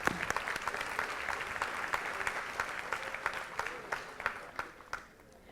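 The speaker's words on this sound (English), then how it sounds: "Let's give him another big round of applause." Audience at a school board meeting applauding a young student honoree, a room of scattered hand claps with distinct individual slaps, tapering off toward the end.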